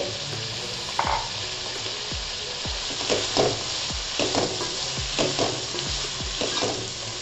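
Ginger-garlic paste frying in a pan for homemade Schezwan chicken rice: a continuous sizzle punctuated by regular scraping strokes of a spatula, close and moderately loud, with no talking.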